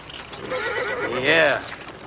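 A horse gives a loud, close whinny rising and falling over about a second, with faint hoof movement around it while horses drink, in a 1979 Western setting.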